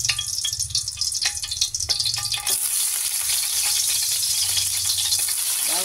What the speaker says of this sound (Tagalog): Igisa natin siya.